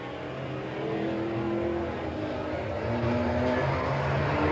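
Car number 89, a Super Sport division race car at Willamette Speedway in 1989, drones loudly as its engine revs and pulls around the track, the pitch climbing and wavering steadily over several seconds.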